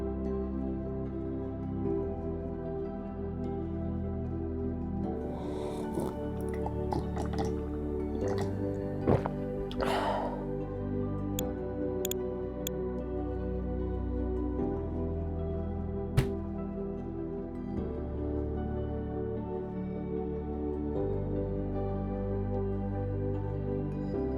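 Water extraction machine in the video game Moon Farming producing dirty water, a steady mechanical drone with scattered drips and liquid squishes, plus a few sharp clicks.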